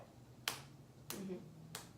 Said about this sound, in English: a clap can sound low or high